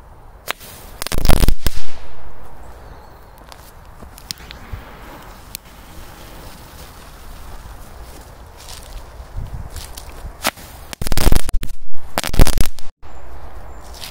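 A firecracker ball bursts like a small salute outdoors, with a loud cluster of sharp cracks near the start, quieter rustling and crackling in between, then another volley of loud pops near the end.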